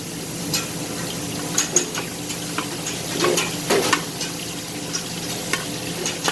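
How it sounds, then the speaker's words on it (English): Onion lightly frying in a pot over a medium flame for pork ribs in green sauce, a soft steady sizzle with light stirring scrapes and small clinks, close and even throughout. "you lightly fry some more onion"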